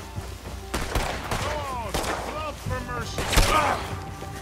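Scattered gunshots from the survival horror video game Friday the 13th: The Game, a few sharp cracks and thuds spread across the moment amid busy game noise, with a person talking over them.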